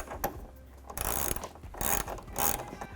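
A ratchet tightens the hood mount bracket bolts on a Ford F150 during a Baja Designs hood mount kit install, with close rapid clicking in several bursts and no voices.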